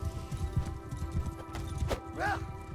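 Cavalry horses galloping in a medieval battle video game, rapid clip-clop hoofbeats with a whinny near the end, over low battle noise and a steady musical drone.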